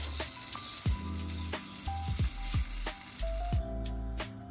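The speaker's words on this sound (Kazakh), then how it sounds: "Енді осыған шамамен 3 литрдей су құямыз." Meat that has been frying in a pot for Kazakh rice soup sizzles loudly and continuously up close, with intermittent clanks and scrapes of a utensil against the pot, and no one speaks.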